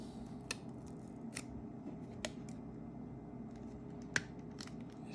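An iPhone 7 Plus screen pressed into place during a screen and Touch ID replacement, a few faint, sharp clicks spaced irregularly over a quiet, steady background hum.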